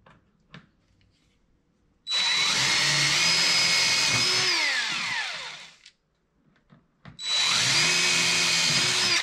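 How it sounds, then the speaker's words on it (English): A power drill whirs loudly up close in two long runs, its pitch sagging as it bites, with a short quiet pause between them. "I gotta get a bigger drill bit for my wire."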